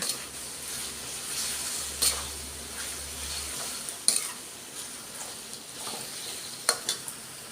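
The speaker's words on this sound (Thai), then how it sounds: "ก็จะผัดให้หมวยหนึ่งจานนะคะ" Wide rice noodles stir-fried for pad see ew in a pan, with a soft continuous sizzle under repeated scraping and tossing clicks of a utensil against the pan, close and moderately quiet.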